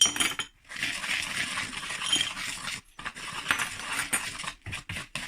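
Rapid metallic whisking of dry bath bomb mixture in a bowl, a continuous scratchy clinking rattle that stops briefly twice, close and fairly loud with no talking.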